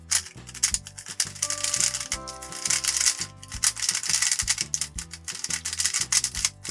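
Clicking turns of a new, slightly greasy magnetic DaYan Tengyun V2 3x3 speed cube, a rapid, uneven run of close, crisp plastic clacks and rattles with no talking.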